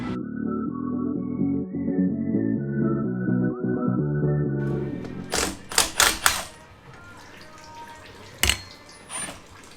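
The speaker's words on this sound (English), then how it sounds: "Now it's just time to torque these back down and we'll have this all wrapped up." Bolts on an Oldsmobile Toronado transmission tightened with a wrench: a low droning background gives way to a few sharp, close metallic ratchet clicks, then a final isolated click.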